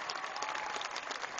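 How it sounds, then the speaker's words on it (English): The audience at a Notre Dame graduation ceremony applauds honored students. The crowd's clapping is steady, dense and fairly distant, filling the hall evenly with no voices over it. "Would you please honor these exceptional students with your applause?"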